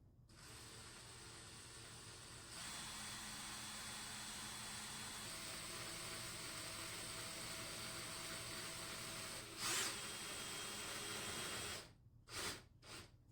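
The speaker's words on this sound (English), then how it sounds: "And drill slow and turn reverse when you back it off." A power drill with a 1/8 inch bit boring a pin hole through a knife scale: a steady whirring drone held for about ten seconds, then stopping in a few short bursts at the end.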